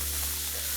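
Ginger and garlic paste sautéing in a pan, a steady low sizzle with faint stirring, heard alone at low level.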